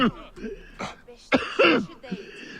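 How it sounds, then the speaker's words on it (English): A man lets out a loud, harsh cough with throat clearing, several rough bursts in quick succession, close and prominent over faint background game sound. "That's the loudest cough in the world."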